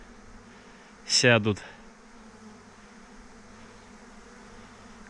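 A swarm of bees flies toward an apiary, their buzzing rising in a short, loud burst of about half a second, then fading back into a low, steady outdoor background, with a brief spoken word.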